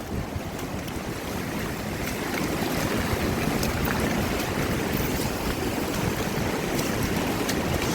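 Rushing floodwater of the rising LA River during a storm, a steady loud broadband roar filling the whole stretch, close and continuous with no pauses and no voices.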